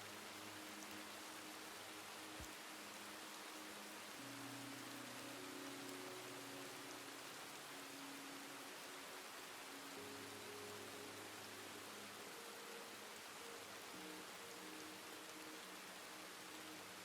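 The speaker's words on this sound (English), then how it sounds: "This is like the third rainstorm." Rain pouring steadily in the WildRP video game world on a mountain, a dense even hiss throughout with faint low tones drifting underneath, no speech.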